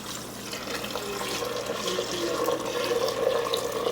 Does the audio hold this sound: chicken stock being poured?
yes